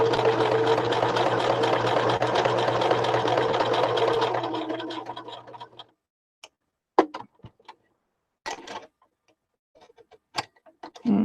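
A sewing machine stitches fabric for a shabby chic fabric clutch, a steady whirring run for about five seconds that winds down, followed by scattered clicks and handling taps amid quiet.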